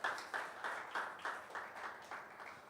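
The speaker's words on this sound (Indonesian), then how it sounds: "Tepuk tangan buat Tuhan kita yang luar biasa" A church congregation at a young adults' worship service claps in steady unison, about three claps per second, the sound faint and somewhat distant with no voices heard.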